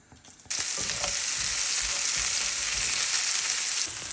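Ginger, onions and garlic hit hot oil in a pan with a sudden loud sizzle that holds steady, broken by soft stirring scrapes, with no voices.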